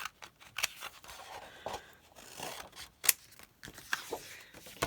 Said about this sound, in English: And then we'll come back and cut this out again.